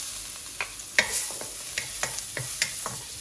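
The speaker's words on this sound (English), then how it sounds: "We are frying this at medium heat." Ginger fries in oil at medium heat for a Chinese stuffed roast chicken dish, a soft steady sizzle punctuated by repeated scraping stirs of a utensil in the pan.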